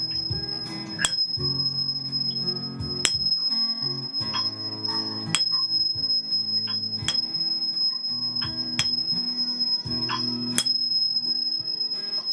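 A tuning fork rings a sustained E tone during a chakra-tuning sound-healing session; the steady, pure pitch is layered with soft overlapping tones and occasional light taps, with no voices.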